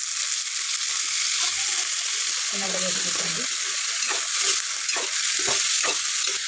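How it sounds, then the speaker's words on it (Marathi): Eggplant and onion sauté in hot oil with a steady, even sizzle, while a spoon scrapes and stirs through the pieces in a few short bursts. "एक दोन मिनटं तेलात परतून घेते या वांग्याच्या थोडी"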